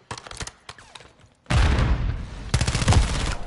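Video game gunfire rings out, first as scattered sharp shots and then as loud, dense bursts of rapid automatic fire, close and punchy.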